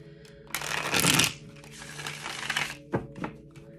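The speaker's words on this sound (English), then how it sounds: "Give this a shuffle." A tarot card deck is shuffled close by, with dense papery riffling that swells into a loud burst early on. It is followed by softer continuous shuffling and a couple of sharp card taps near the end. No talking.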